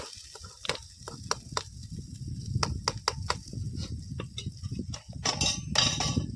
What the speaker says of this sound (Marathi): कांदा शिजू दे आपला